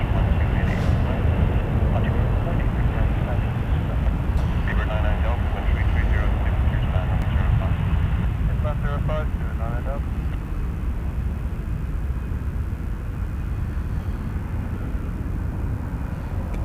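A British Airways Boeing 777 on landing approach at Toronto Pearson Airport makes a steady, broad jet roar that holds for the whole stretch, with people talking over it throughout.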